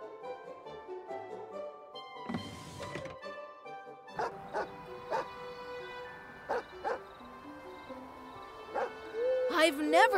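Dog barking in the Christmas video game Watch Over Christmas: a series of separate, sharp barks spaced a second or so apart over a music backdrop, moderately loud, with a burst of noise early on.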